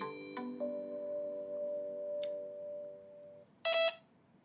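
A trading app's beep alert tone plays alone: a sustained electronic chime with layered steady tones lasting about three seconds, then a short louder buzzy beep near the end, with no talking.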